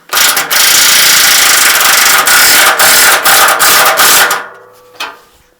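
Loud, close impact gun hammering bolts tight during the rebuild of a 1968 Regal 3/25 Super boat, with rapid rattling bursts broken by short pauses before it stops, then a faint clunk.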